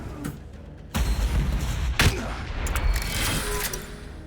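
Pathfinder gunfire in a Warhammer 40,000 battle game, a sustained volley of rapid shots and heavy thumps that starts abruptly after a quiet moment and rolls on loudly, with faint voices in the background.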